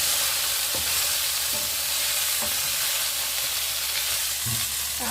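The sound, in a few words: chicken sizzling as it is sautéed in a pan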